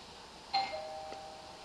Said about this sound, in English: he's not responding to the doorbell